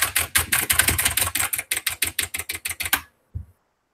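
Computer keyboard foley: rapid, evenly spaced key clacks for about three seconds, then silence and one last isolated keystroke; close and crisp, with no voices.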